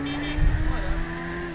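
Suzuki V-Strom motorcycle in GTA V cruising at speed, a steady engine hum with a brief low rumble early on, close and continuous, with some voice mixed in.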